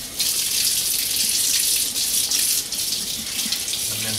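Tap water runs in a steady, loud, close stream into a sink while a thermometer is washed during homebrew yeast-starter preparation. A faint clink sounds near the end.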